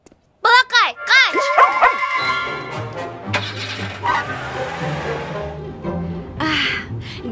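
A cartoon dog in a Kyrgyz-dubbed Polly Pocket episode gives a quick run of high yipping barks, loud and near, followed by animated characters talking over background music.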